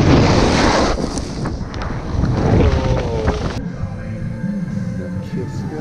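Strong wind rushes and buffets across a mountainside in the Canadian Rockies, loud and gusty against the microphone, easing slightly partway through.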